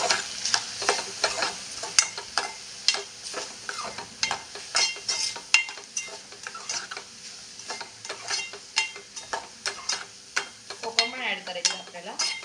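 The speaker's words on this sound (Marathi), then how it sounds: "आपण मसाला टाकून घेऊया गरम मसाला मालवणी मसाला आता हे व्यवस्थित मिक्स करून घेऊया आपण" A spoon scrapes and stirs garam masala and Malvani masala into a Malvani-style prawn chutney in a pan, with close, steady rhythmic strokes over a soft sizzle and no talking.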